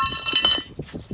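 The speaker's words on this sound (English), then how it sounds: "There goes the freaking" A rear brake rotor comes off the hub of an MK4 Volkswagen Jetta TDI with a close metallic ring and clink, followed by a few duller knocks as it is handled.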